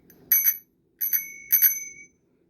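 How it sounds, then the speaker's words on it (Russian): A rusty Soviet-style bicycle bell rings three times in quick double strikes, bright and metallic with ringing tails, close and alone in a quiet room. "То есть это аналог вот такого вот советского звонка, но он весь ржавый."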